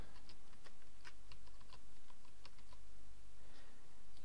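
A password is entered on a computer keyboard with fairly soft, scattered key taps over a steady background hiss, irregular in rhythm, with no one speaking.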